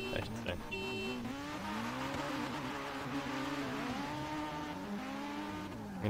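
Drifting cars in Forza Horizon 3 at a Formula Drift event: a steady, loud engine whine climbing and falling in pitch with a brief squeal of tires early on, continuous throughout with no gaps.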